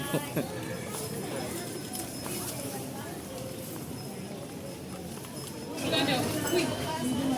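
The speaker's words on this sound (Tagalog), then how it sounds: "Kabayo." Horse hooves clip-clop on a street in Vigan, Ilocos, set amid a busy outdoor scene with chatter and voices throughout, the hoofbeats mixed into the crowd noise rather than standing alone.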